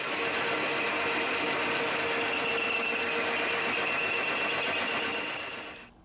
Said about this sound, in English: Now I'll take the thread off here.